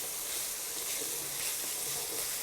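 Vegetables with salt cooking in a pan for jeera rice give a soft, steady sizzle with faint stirring, quiet and continuous throughout.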